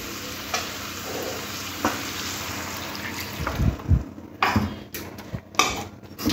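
Malabar spinach (pui shak) stirred in a sizzling pan, with steady frying hiss broken by scraping spatula strokes and soft clatters that grow busier toward the end.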